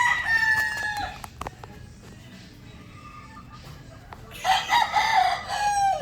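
A Super Brownred gamefowl rooster of the Mount Banahaw line, F1, crows twice, close and loud, with a quieter stretch of clucking between the two calls.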